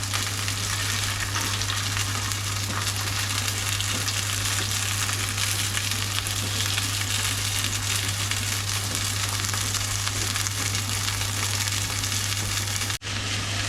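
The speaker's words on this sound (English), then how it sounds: "it's been frying for about a minute and they've already got some nice colour" Steady, loud sizzling and crackling of sausages frying in a hot pan, continuous throughout with a low hum underneath and no talking.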